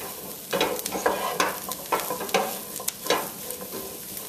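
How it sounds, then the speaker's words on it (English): A spoon stirs a cauliflower and chickpea curry base in a hot pan, giving repeated scraping strokes over a continuous low sizzle, with no one talking. "And give that a quick stir."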